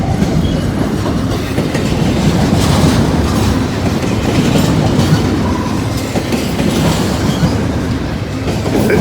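Norfolk Southern short priority intermodal freight train rolling past close by, a loud steady rumble of railcars with rhythmic clickety-clack from the wheels and faint wheel squeal, continuous throughout with no talking.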